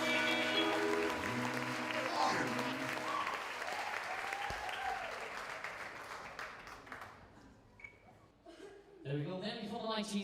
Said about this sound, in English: Keep your applause going, by the way.